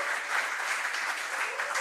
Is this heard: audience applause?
yes